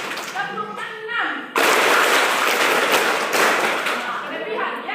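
A voice speaks briefly, then a church congregation bursts into loud, sustained applause that continues steadily to the end.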